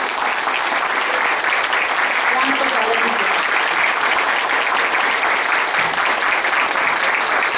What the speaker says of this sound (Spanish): Fuertes los aplausos para el señor Dagoberto y Félix García.